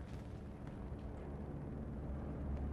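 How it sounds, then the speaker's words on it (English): Bombing-run explosions in the World War II shooter Hell Let Loose, a steady, dense, low rumbling roar of blasts running together at moderate distance. "This could be a perfectly timed bombing run"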